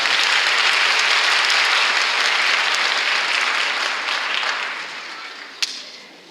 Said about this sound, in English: Can we give one more round of applause to these beautiful girls?